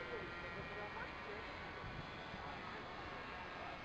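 An Extra 300 low-wing model airplane flies on its first flight, giving a faint, distant, steady engine drone. Quiet voices can be heard over it.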